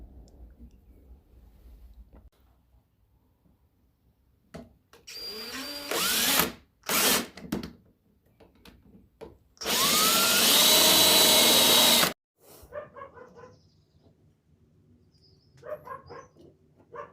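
A power drill whines in short bursts, then runs in one sustained loud burst of about two seconds, with quiet handling noises and faint knocks between.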